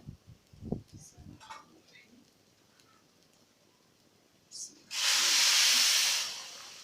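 Loud hissing sizzle erupts suddenly as water is poured into a hot pan of chicken, holding for about two seconds before tapering, preceded by faint clinks and quiet room sounds.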